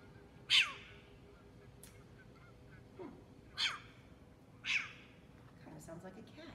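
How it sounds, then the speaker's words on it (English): Short-eared owl calling, several short, sharp raspy barks spaced a second or two apart over a faint hiss of background, with a soft voice speaking between calls. "This is a short-eared owl."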